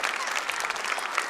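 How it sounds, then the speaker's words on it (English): Audience applause at a Three Kings Day cultural performance at the Kimmel Center, a continuous even patter of many hands clapping, moderately loud and sustained for the whole stretch. "Now you can clap."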